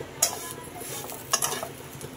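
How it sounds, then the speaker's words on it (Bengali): Vermicelli (semai) frying in ghee in a pan, with two short, sharp scraping stirs of a spatula against the pan over a quiet kitchen background. "এখন আমি সেমাইটাকে একটু ঘি দিয়ে ভেজে নিচ্ছি"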